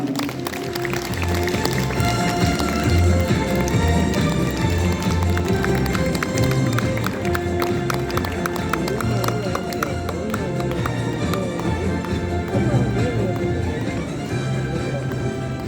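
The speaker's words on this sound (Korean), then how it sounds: "축하의 큰 박수 부탁드립니다." Audience applause at an award ceremony for the 49th Korean native orchid exhibition, a dense, steady wash of clapping from a crowd that lasts the whole stretch, blended with loud music that has a thumping rhythm.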